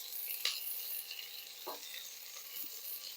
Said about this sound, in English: Okay, this is cooking nicely, sauteing nicely.